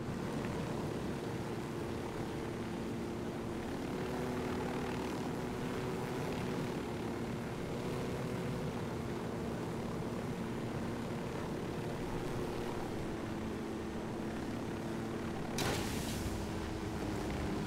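Aircraft flown by the player in Ghost Recon Wildlands, a steady droning engine hum holding level throughout with no talk, and a brief louder burst near the end.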